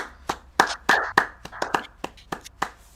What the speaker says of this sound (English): Let's clap it up for Derivative.